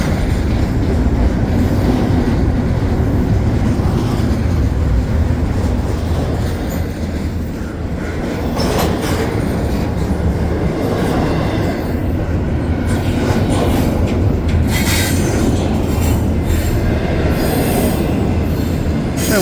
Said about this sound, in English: This is westbound CPKC heading towards Toronto.